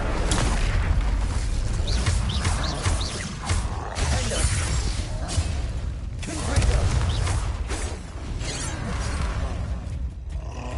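An Incendio fire spell in Hogwarts Legacy bursts with loud whooshing, crackling blasts amid continuous combat crashes and impacts, dense and close throughout.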